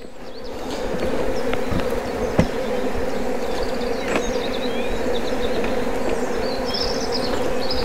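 Honeybees swarm around a hive frame during a nucleus-to-hive transfer, a dense steady buzzing drone close by with a few sharp taps and faint chirps, no talking.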